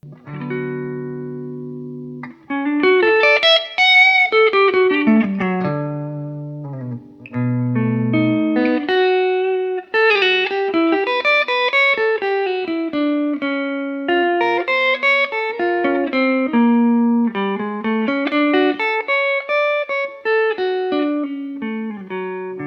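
An electric guitar played through an Automatone MKII preamp on preset 5 with no drive, a clean, full-toned melodic line of sustained notes and chords ringing out loud and close with no talk.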